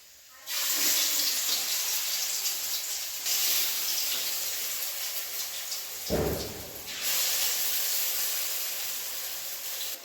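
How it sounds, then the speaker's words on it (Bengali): Balls of mixed lentil paste for bottle gourd flower fritters drop into hot oil and fry with a loud, steady hiss that breaks off briefly partway through, then resumes. "তেল গরম হয়ে গেছে মিক্সড করা ডালবাটা দিয়ে দিচ্ছি গোল গোল করে"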